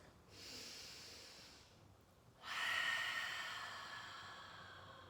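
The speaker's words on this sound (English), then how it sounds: "You're always breathing deeply in and out." Slow, deep breathing in and out during a guided movement exercise, a softer inhale followed by a longer, louder exhale, close and alone with no talking.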